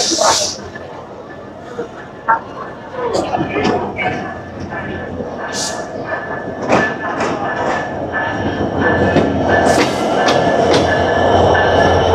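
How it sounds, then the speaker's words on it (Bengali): Rupashi Bangla Express passenger train pulling into Jessore railway station, a steady loud rumble of wheels on rails with repeated clacks and squeals building over twelve seconds, while people talk nearby. "আমাদের রূপসী বাংলা এক্সপ্রেস ট্রেনটি যশোর রেলওয়ে স্টেশনে প্রবেশ করছে"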